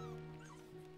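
A dog whimpers in the Warcraft 3 video game, giving a short, steady whine with a faint whistling rise partway through, heard close and alone.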